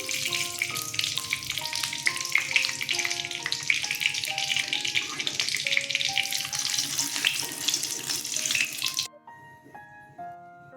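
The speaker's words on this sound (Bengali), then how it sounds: "শুকনো লঙ্কা তেজপাতা একটু তেল দিয়ে দিলাম" Dried red chilies and a bay leaf fry in hot oil for a tempering, crackling in a dense, continuous sizzle beneath background music. The sound cuts off abruptly near the end, leaving only faint music.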